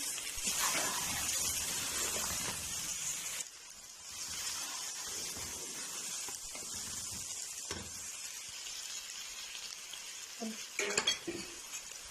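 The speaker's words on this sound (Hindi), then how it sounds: "एक मिनट के लिए हमने बस मिर्चों को भून लेना।" Green chillies fry in a hot pan with a steady broadband sizzle, stirred with scraping utensil strokes and a few clinks of metal against the pan near the end, no talking.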